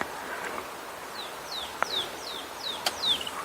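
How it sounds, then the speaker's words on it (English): Repeated short, descending whistled bird calls of a wren warbler at an African safari site, fairly faint and a little distant, coming in a steady series against soft outdoor ambience. "It sounds like a wren warbler."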